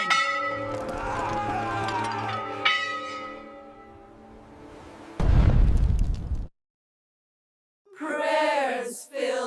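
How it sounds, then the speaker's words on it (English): Church bells ring out in a rich, resonant peal for a few seconds, then a heavy, deep boom bursts in and fades, followed by silence and a brief, harsh, wavering tone. "Bells rang in warning."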